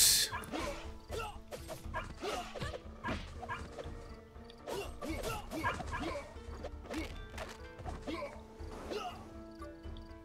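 Dogs bark repeatedly in the video game Clan N, in a dense run of sharp yips and woofs with some whimpering, mixed with crashing and thwacking game effects and background music.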